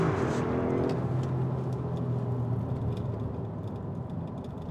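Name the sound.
Audi SQ7 twin-turbo petrol V8 launch acceleration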